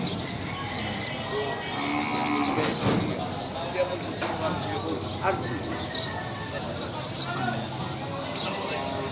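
Water buffalo low and moo amid the busy hubbub of the Padre Garcia livestock auction market, with people talking throughout and several animals calling.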